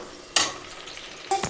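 Onions sauté in a pan, with two brief bursts of sizzling and scraping as a utensil stirs them, close and short.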